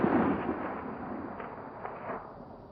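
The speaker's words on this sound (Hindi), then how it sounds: "पहाड़ों को काटना और सुरंग बनाना बिजली परियोजना का अहम हिस्सा है, लेकिन इस संवेदनशील इलाके में बार बार हो रहे धमाके" A rumbling blast from tunnel excavation for a hydropower project in fragile mountain terrain, loudest at the start and then rolling away as a diffuse, fading roar with no voices.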